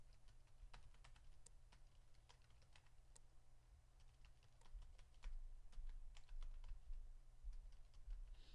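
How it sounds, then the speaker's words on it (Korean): Steady typing on a computer keyboard while coding JSON data parsing, continuous quiet key clicks in an even rhythm with no talk. "제이슨까지 좀 타이핑 했는데"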